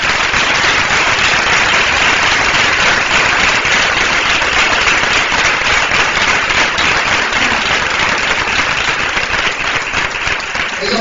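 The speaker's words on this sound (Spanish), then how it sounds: "Un fuerte aplauso para ellos." Audience applauding at a brotherhood's 25th anniversary event, a loud, continuous burst of clapping that stays even and dense from start to finish.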